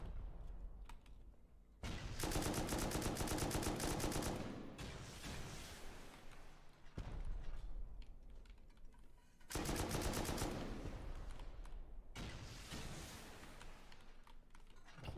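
Automatic weapons fire in Rust PVP combat during a base raid, long sustained bursts of rapid shots that stop and restart in several loud volleys with short pauses between.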